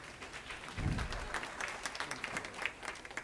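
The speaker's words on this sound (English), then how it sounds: "Is that why you're clapping?" Audience applause at a Green New Deal town hall, a brief burst of clapping from a crowd that swells and then settles into scattered claps, fairly distant and moderate in level.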